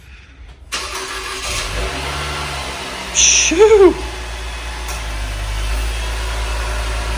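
A 2021 Nissan Kicks engine cranks and catches, then settles into a cold idle with a brief sharp rev in the middle. A person makes a short exclamation near the start, and the engine keeps running steadily afterward.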